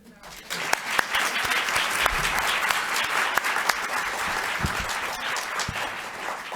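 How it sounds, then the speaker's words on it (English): An audience at a nuclear fusion energy discussion panel applauds the panelists, a full round of clapping from a crowd that swells quickly and continues steadily, with some voices faintly beneath it. "I think a round of applause for our panelists"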